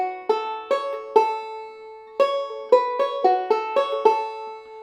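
Bluegrass banjo picking measure 3 of Sally Goodin', bright plucked notes in short clusters with a brief pause, close and clear with quick decaying twang.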